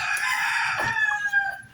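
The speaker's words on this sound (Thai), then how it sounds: "เป็นไก่แจ้โกโก้ครับ" A Thai cocoa bantam rooster crows once, a single close, clear, drawn-out call that rises and then trails off, heard alone without talking.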